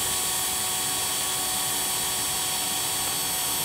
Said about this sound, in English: Either dull drill bit or thick fiberglass.